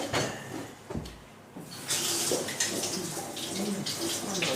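Tap water runs as something is rinsed under it, giving a close, steady hiss and splash that starts after a brief lull and continues to the end.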